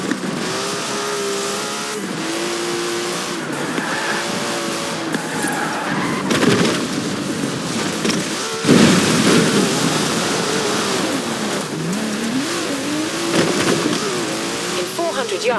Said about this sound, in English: Now let's really shred those tyres.